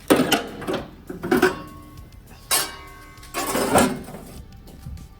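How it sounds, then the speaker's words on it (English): Pneumatic chisel on rusty car body sheet metal of a V12-swapped Datsun 260Z, tearing through spot welds: loud rattling, metallic bursts in several separate runs, close up, with short pauses between. "So I ended up using this pneumatic chisel, worked great. It did tear through the metal from the spot welds"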